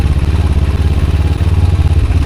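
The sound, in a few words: Kawasaki Ninja 300 parallel twin motorcycle engine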